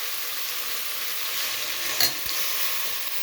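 Washed dal dropped into a hot pan while cooking methi pappu, with a steady sizzle and a brief louder clatter of stirring midway, close and alone.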